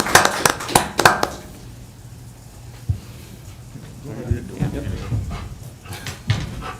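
Police dog in a town council meeting room giving short panting breaths and soft whimpers, mixed with sharp handling knocks and voices speaking nearby.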